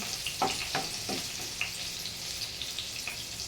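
Garlic added to a hot frying pan for tofu cooked in shrimp paste, a steady close sizzle and crackle with a few light stirring taps.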